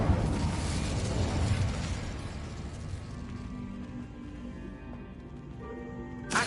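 A fiery burst from the Incendio spell in the video game Hogwarts Legacy: a loud explosive whoosh at the start that decays into a crackling, rumbling tail, fairly steady and moderately quiet overall.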